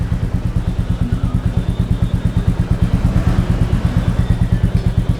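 Royal Enfield Classic 350 or Meteor single-cylinder engine idling through an aftermarket silencer, with a steady, loud, close thumping beat of evenly spaced pulses throughout.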